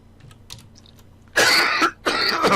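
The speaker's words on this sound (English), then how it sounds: "I'm about to cough again." Two forceful coughs close to a microphone during a building workshop session, each a loud broad burst lasting about half a second, separated by a brief pause, after faint keyboard clicks.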